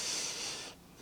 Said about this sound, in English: Take a breath.